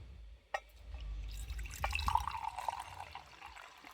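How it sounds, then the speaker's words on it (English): Cerasee herbal detox tea being poured out, a soft liquid trickle and splash heard close and fairly quiet after a single sharp clink. "we're going to pour this out now"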